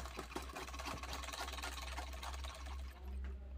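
A sewing machine stitches lace onto a blouse with a steady, continuous mechanical whir and a rapid needle patter, holding a close, even drone throughout with no voices.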